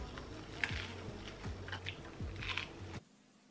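Someone bites into and chews a crunchy cheese toastie made in a George Foreman grill, giving repeated close crunches in a steady chewing rhythm, quiet overall, with no talking, ending abruptly.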